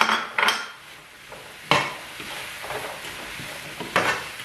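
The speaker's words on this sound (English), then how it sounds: "Let it saute together with the carrot." Carrot sautéing in a pan for a no-oil, no-salt roasted eggplant sauce, with a low sizzle and scattered utensil scrapes and clinks against the pan, including a few sharper knocks.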